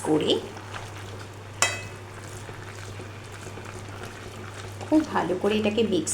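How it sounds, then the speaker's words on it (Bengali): Mutton mince fries and gets stirred in a pan: a low continuous sizzle, a sharp utensil scrape near the start, then clattering stirring toward the end, with a voice speaking at the beginning and end. "আবার ভালো করে একটু নেড়ে নেব"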